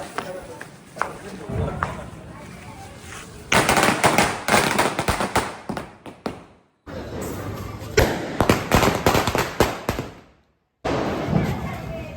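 A long string of 5,000 firecrackers bursting for Diwali outside a home, loud dense crackling bursts in rapid runs with brief gaps, while people talk nearby.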